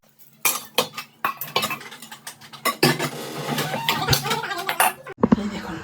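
Dishes and utensils being washed in a home kitchen, with close metallic clinks and clatters of cutlery and pots knocking together in irregular bursts, plus a brief splash of running water near the end.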